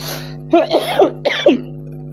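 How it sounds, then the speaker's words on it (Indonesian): Two short, close coughs with a quick throat-clearing quality, separated by a brief pause, over a faint steady hum. "Sampai batuk saya."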